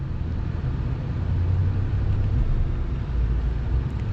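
Engine of a 2022 Ram 1500 Country Edition pickup truck revving under throttle while pushing over a curb: a steady low rumble that builds and holds, with no voices.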